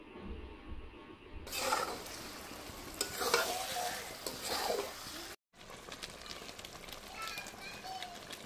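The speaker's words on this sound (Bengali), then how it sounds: "মাটনটা দেওয়ার পর ভালোভাবে মাখিয়ে এবার কষিয়ে নেব" A kilo of mutton is sautéed kosha-style in a pan: a dense sizzle with repeated stirring scrapes, while voices and children's chatter carry on in the background and the sound cuts out briefly partway through.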